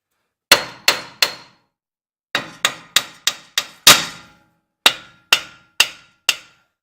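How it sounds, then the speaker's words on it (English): Sharp metallic hammer taps ring out on a Ford F-250 ball joint and steering linkage, thirteen close, loud blows in uneven bursts of three and four with brief pauses between. "Okay, so a little more tappy and the steering linkage came off."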